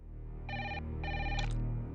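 An indoor telephone bell rings in two short bursts with a gap between them, a bright trilling tone set against a faint low room hum.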